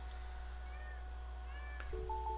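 A cat meows faintly a few times against a steady low hum in a quiet indoor room, with a brief brighter call near the end.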